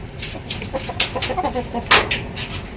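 Black Australorp chickens of breeding age cluck nearby in a series of short, uneven calls with a few louder bursts, over faint background noise and no talk.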